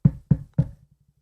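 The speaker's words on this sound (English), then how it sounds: "And you hear the door knock again." Three firm knocks on a hotel room door, evenly spaced about a third of a second apart, close and dry with a short boomy thud each, followed by faint soft taps trailing off.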